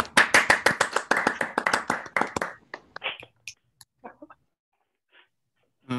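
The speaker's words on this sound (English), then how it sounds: "shall we just unmute and give our guest speaker like a round of applause" A round of applause for a guest speaker after an online physics prize lecture: brisk, dense clapping at first that quickly thins into a few scattered, isolated claps, then silence.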